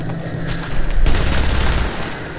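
A rapid-firing turret in a video game fires in a dense, continuous roaring burst of gunfire that grows louder partway through and stays heavy to the end.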